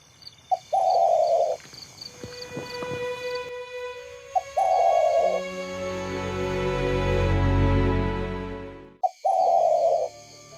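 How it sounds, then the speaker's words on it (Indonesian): Zebra dove (perkutut) cooing at night: three short bursts of a warbling call, one near the start, one around the middle and one near the end, separated by a long, loud sustained tonal hum. "Pernahkah kalian mendengar burung perkutut berbunyi di tengah malam?"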